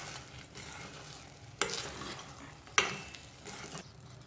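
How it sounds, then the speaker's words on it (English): Oats cook in ghee while being stirred, a soft sizzle running throughout with two sharp scrapes of a spoon against the pan, quiet and close, no talking. "And cook it for a while in ghee."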